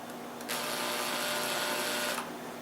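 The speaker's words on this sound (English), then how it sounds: "we're going to go ahead and drill a hole" A drill whirs steadily for nearly two seconds as it starts a hole in a kit part, a close, bright mechanical whine that starts and stops abruptly against a quiet workshop hum.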